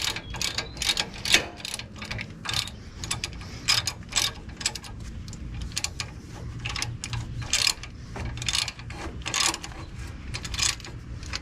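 On a Ford Expedition front brake job, a hand ratchet tightens the rotor bolts with rapid bursts of sharp, close clicking. Short pauses separate the bursts, and a soft mechanical rumble runs underneath.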